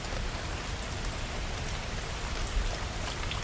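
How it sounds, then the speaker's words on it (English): Rain patters in a steady, even hiss of countless drops falling on a surface, continuous and moderately loud with no voices. "maybe it calms down into a light pattering of rain"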